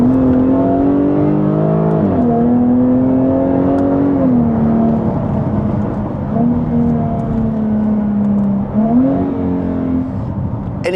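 A Jaguar F-Type sports car engine droning loud and close, its pitch dipping and rising a few times as it revs.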